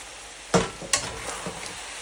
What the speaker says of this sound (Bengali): এবার মাংসের সাথে শাকটা মিশিয়ে নেব।